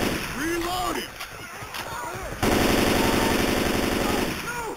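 Rapid automatic bursts from an M4 carbine with a 16-inch barrel in Left 4 Dead 2, loud and close, with overlapping shouting voices and game effects around the fire.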